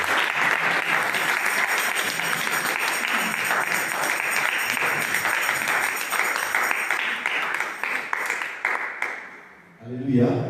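Church congregation applauding together during a worship service, a dense sustained wall of clapping with crowd voices mixed in, fading near the end before a brief renewed swell.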